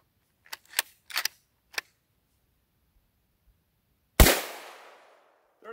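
A single loud 7mm Remington Magnum rifle shot cracks out close by with a sharp attack and a long fading echo, preceded by several brief faint clicks and handling noises.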